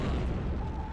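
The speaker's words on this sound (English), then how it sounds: "Wasserbomben." Depth charges go off in a U-boat submarine game as one continuous heavy, muffled rumble filling the whole short moment, deep and loud without a sharp attack.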